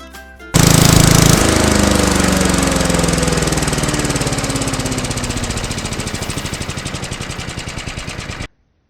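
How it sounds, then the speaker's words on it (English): A petrol lawn mower starts up loud and close, then runs with a rapid, rough, pulsing engine note that slowly sags and labours as it chokes on overgrown backyard grass, cutting off abruptly at the end. "So we'll get the trusty mower out and we'll have a go."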